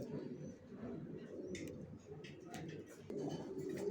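Racer pigeons coo in a low, continuous murmur, close by, with scattered short clicks and ticks breaking through above the steady cooing.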